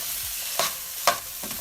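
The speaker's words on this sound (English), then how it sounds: "just saute all of that together for another 2 minutes" Spring onions sautéing with ackee and saltfish ingredients in a pan, a steady close sizzle broken by about three sharp scraping stirs of a spoon against the pan, with no voices.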